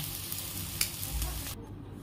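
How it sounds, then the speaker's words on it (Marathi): Sweet corn and potato cutlets shallow frying in oil, a steady dense sizzle close up that continues evenly, then drops off abruptly near the end. "हे कुकी कटरने जे आपण कट केलेले होते कटलेट ते सुद्धा मी इथं शॅलो फ्राय करायला घेतले"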